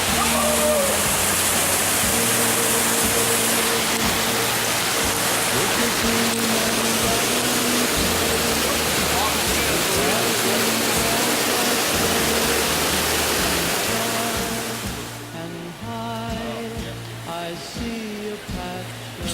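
Creek water rushes steadily beside a mountain hiking trail, a broad loud hiss like a small cascade that fills the scene, then drops away abruptly as people talk over the quieter background.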